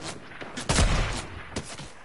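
Video game gunfire comes as a burst of loud, close shots, one heavy blast followed by a fading rattle and a second, weaker crack, with no speech over it.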